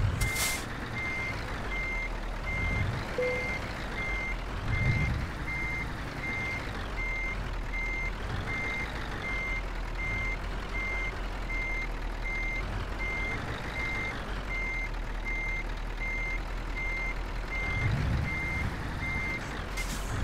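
Steady, evenly spaced reversing beeps sound from a truck in Euro Truck Simulator over a constant low engine rumble, with a few soft thumps and air-brake hisses; no talking.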